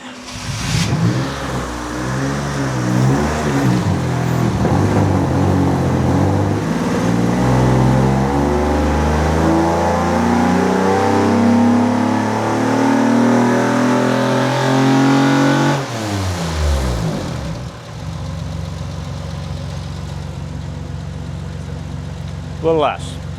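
Acura TSX 3.2 liter engine on a dyno, revving up in a long, rising pull that climbs steadily for about fifteen seconds, then drops off sharply to a lower idle-like hum, with voices talking over it.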